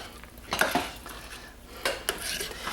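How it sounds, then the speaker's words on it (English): A spoon stirs thick homemade soap in a crock pot, scraping and clinking against the pot in two bursts of movement, close and fairly quiet with no voices. "that's when we stir them because they're just almost done"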